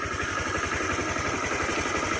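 A Honda Click 125fi V2 scooter engine, suffering from overheating, runs at a slow, steady low revolution with a continuous pulsing mid-frequency drone and no voices.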